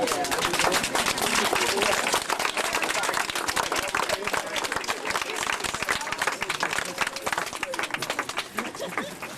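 Crowd at a pier dedication in Ames, Iowa applauding the Martin family and their descendants, dense sustained clapping throughout with some voices and chatter mixed in.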